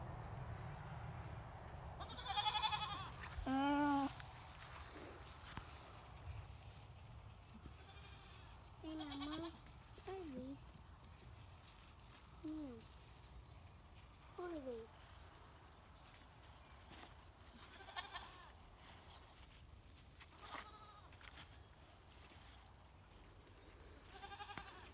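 Several farm goats bleat repeatedly outdoors near a green bean garden, their wavering calls spread irregularly across the stretch, some close and loud, others fainter, over soft insect hum and occasional footsteps.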